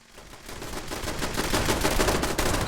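Artillery fire in the video game Fallout 76: a dense, rapid barrage of overlapping blasts that swells from quiet to loud and holds steady, with no voices over it.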